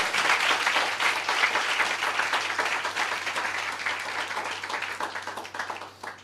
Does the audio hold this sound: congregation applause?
yes